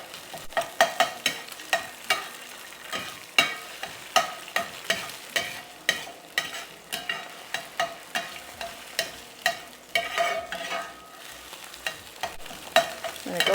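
Egg scrambled with a utensil in a hot pan for a low-carb breakfast, a steady run of sharp scraping and tapping strokes over a soft continuous sizzle, close and fairly loud, with no talking.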